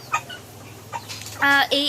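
On a small poultry farm in the rain, a chicken gives a brief cluck and a short, louder squawking call near the end, with a voice talking low underneath.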